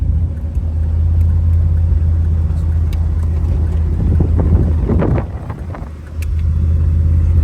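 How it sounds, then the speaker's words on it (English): Steady low rumble of wind buffeting the microphone on a windy, rainy day, constant and loud throughout, with a brief dip in intensity near the end. "it's a little bit windy. It's a windy day, rainy day."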